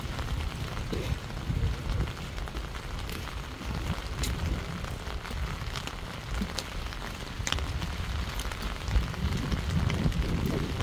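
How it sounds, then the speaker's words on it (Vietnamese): Steady spring rain patters on surfaces close by, a dense, continuous hiss with scattered louder drops and no voices. "Mưa này mưa mùa xuân,"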